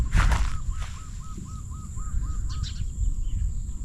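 Finches chirping outdoors near a pond, a quick series of small repeated chirps over a rough, low background rumble, with a couple of brighter calls toward the end.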